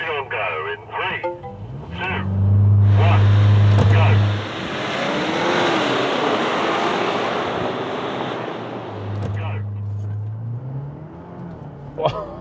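Six SUVs (Nissan Patrol, Toyota LandCruiser, Prado, Tank 500, Lexus LX, Ford Everest) launch together in a drag race: a loud, deep engine roar swells, holds, then fades into a long rushing drone with wind buffeting.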